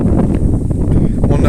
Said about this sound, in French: Il y a même beaucoup de vent.